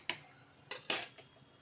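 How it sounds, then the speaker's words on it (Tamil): A slotted ladle turns medu vada frying in oil, making three quick metallic clinks and scrapes against the pan, close and fairly quiet. "ஒரு வடக்கம்பியால் இல்லை ஜல்லியால் திருப்பி விட்டுக்கோங்க"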